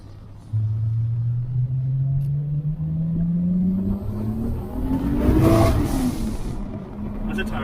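Toyota 2JZ-GTE in a Lexus GS300 with an R154 gearbox pulls hard from inside the cabin, a loud rising engine drone climbing steadily over several seconds with brief tire noise mixed in.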